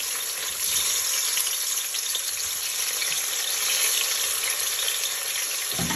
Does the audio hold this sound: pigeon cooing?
no